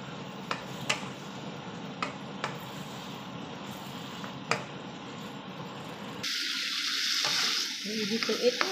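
Shrimp frying in a pan with sautéed sotanghon glass noodles, a steady close sizzle with scattered sharp ticks of utensil stirring, then a louder hissing burst near the end.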